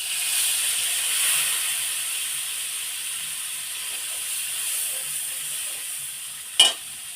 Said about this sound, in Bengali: এখন আদা বাটা, রসুন বাটা, পেঁয়াজ বাটা, শুকনো মরিচ বাটা মশলাটা এখন কড়াইতে দিয়ে দিলাম